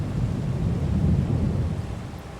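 A thunderstorm with rain in Farming Simulator 22 on a Finnish farm map, a deep rolling rumble of thunder over a steady wash of rain, swelling and then easing.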